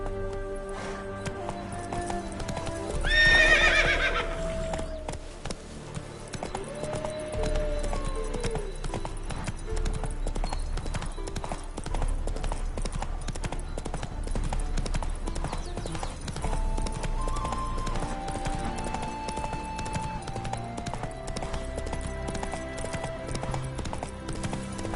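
Horse hooves clip-clopping at a steady gallop in the video game The Witcher 3, with a loud whinny near the start and game music playing underneath throughout.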